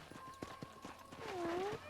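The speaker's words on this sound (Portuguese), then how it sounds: "Eu vou pegar o cavalo do Micah." Horse hooves clip-clop in a steady rhythm in the video game Red Dead Redemption, close and moderately loud, under a voice with a tonal whistle or call near the end.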